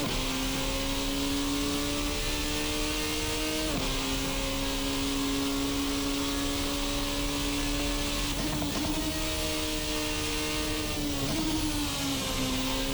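Formula-style race car engine from a racing sim, the Race Sim Studio Formula RSS Supreme, screaming steadily near and loud as it powers hard out of a hairpin, with brief pitch dips at gear shifts and no talk.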